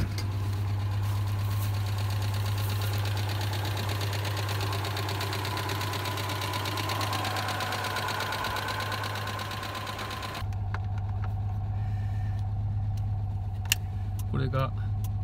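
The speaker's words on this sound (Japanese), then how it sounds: "一応アイドリングに戻りました。" A Citroën 2CV idles steadily with a low hum after being restarted following months of disuse, while someone speaks over it at close range. Faint clicks sound near the end.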